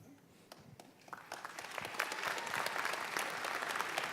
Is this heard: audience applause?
yes